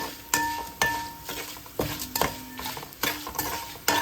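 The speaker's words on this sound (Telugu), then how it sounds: "మాడకుండా కొంచెం కలర్ వచ్చేదాకా కొంచెం వేయించుకోవాలి" Dal fries in a pan and is stirred with a metal spoon: a steady soft sizzle runs underneath, broken by regular sharp taps and scrapes against the pan, close and clear with no talking.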